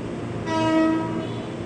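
A KRL commuter train bound for Bogor at Cikini station late at night gives a brief horn toot over a low background rumble of the station.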